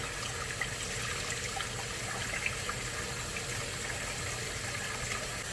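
Faint, continuous running water trickling and splashing steadily as beans are rinsed, with no voices.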